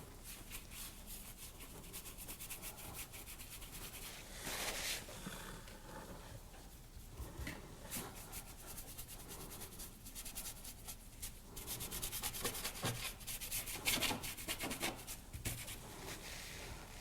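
A cloth or brush wipes and rubs paint across an abstract painting, producing a faint, continuous scrubbing and swishing with some slightly louder strokes. Nobody speaks.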